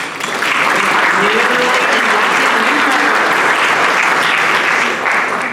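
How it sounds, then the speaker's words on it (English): Sustained applause from a sizable audience at a Rotary Club meeting, loud and steady for several seconds before tapering slightly at the end. "Let's give one more round of applause."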